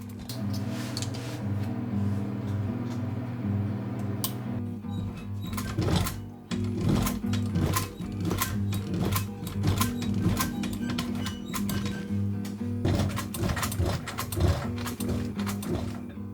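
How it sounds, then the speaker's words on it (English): An industrial sewing machine stitches a new canvas dodger for a sailboat, its motor humming steadily up close while the needle runs in fast rattling bursts that stop and restart several times. "Well, we've returned, and Simon is going to sew us a beautiful new Dodger for Magic Carpet."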